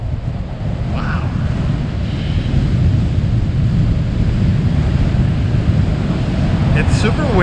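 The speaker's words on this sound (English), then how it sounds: "It's super windy, so you're probably not really hearing me all that good." Strong wind at the California Lighthouse in Aruba roars steadily and loudly against the microphone, a dense low rumble that fills the whole stretch, with faint sounds briefly poking through.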